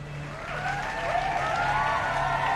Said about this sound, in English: Play applause.